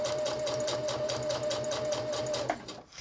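A sewing machine runs steadily, stitching a marked line on a Suncatcher open-back dress, with a fast even rhythmic whir and a constant tone that stops near the end, close and alone.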